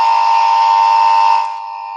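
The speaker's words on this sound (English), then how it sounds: "That's our buzzer button for today's Valentine's Day special" Buzzer button gives one loud, sustained electronic buzz lasting over a second, then drops to a fainter tail before cutting off.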